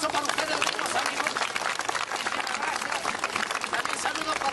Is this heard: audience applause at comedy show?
yes